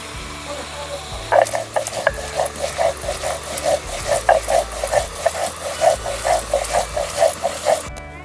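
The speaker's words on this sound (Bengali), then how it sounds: "আমি আদা কাঁচা লঙ্কা আর সর্ষেটা বেটে নেব" Soaked mustard seeds, ginger and green chili are ground into a paste, with steady rhythmic scraping strokes repeating about twice a second, close and fairly loud, after a quieter opening.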